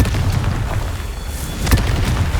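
A Confringo fire spell blasts in the video game Hogwarts Legacy: one dull, low boom swells around the middle with a brief crackling burst, over steady game background rumble, alone without talk.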